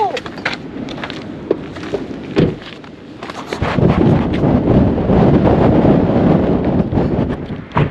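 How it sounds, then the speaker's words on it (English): Strong gusts on a mountain ridge buffet the microphone with loud roaring rumble, easing briefly then building into a sustained heavy blast of wind. "it seems mega windy here"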